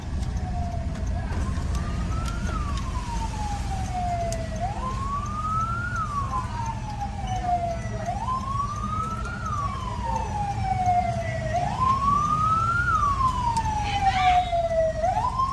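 An ambulance siren wails behind a vehicle on a bypass road near Mandalika, its rising and falling sweeps repeating clearly over a steady road and engine rumble.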